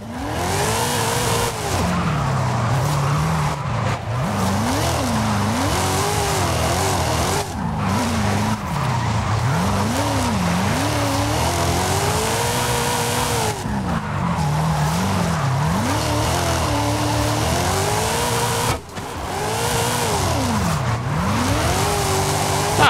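Car drifting in the racing game Forza Horizon 5, a continuous loud engine roar with sweeping pitch as it revs, under sustained tire squeal and skidding across the whole stretch, with only brief dips between slides.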